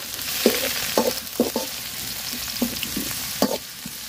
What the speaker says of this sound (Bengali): পেঁয়াজ মরিচ লাল লাল করে ভাজা নিছি